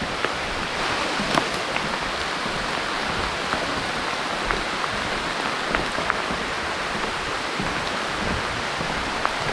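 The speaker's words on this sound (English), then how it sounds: "Rain is definitely coming down right now." Steady rain on a swampland boardwalk trail in Congaree National Park, a constant hiss with occasional louder drops, no voices.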